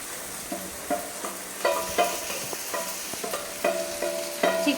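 Masala-marinated chicken drops into frying onions in a pan, a close, steady sizzle broken by repeated sharp clinks and scrapes of a spoon stirring against the metal.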